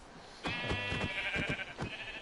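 Sheep in the Minecraft video game bleat several times in quick succession, clear and close, with no talking over them.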